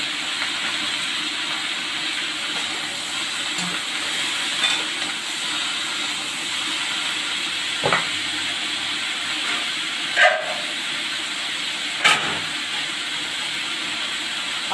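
Cumin seeds hit hot oil in a pan for a Bengali labra vegetable curry, giving a steady, close hiss of sizzling oil broken by a few brief clunks and clicks.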